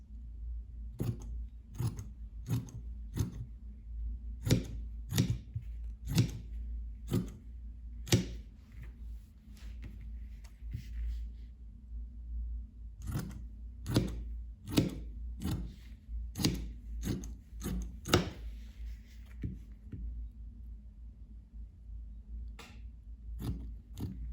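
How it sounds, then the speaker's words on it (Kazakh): Scissors snip through excess fabric and synthetic padding for a quilted child's jacket, giving sharp, crisp clicks in irregular bursts and short runs, close and fairly quiet over a low background hum. "Осылай артығымен қия беріңіздер."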